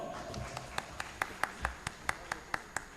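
An audience at the India Meri Jaan award event claps in a sparse, fairly steady rhythm, a dozen or so distinct claps, moderately close with light background murmur.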